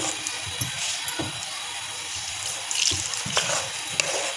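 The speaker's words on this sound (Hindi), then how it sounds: "थोड़ा सा इसमें हम पानी शामिल करेंगे" Water is poured into a pan of tamarind paste on a stove, producing a steady running-water hiss with a few small clinks and splashes, fairly quiet and close.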